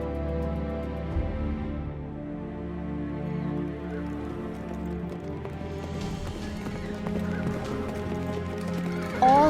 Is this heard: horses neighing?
yes